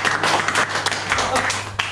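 Brief burst of clapping from a small group gathered in a new office, steady and close, with voices talking over it.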